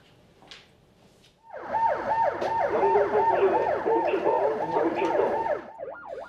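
A 119 ambulance siren wails in a rapid repeating up-down pattern, starting abruptly after a quiet moment and holding loud and steady for several seconds before trailing off.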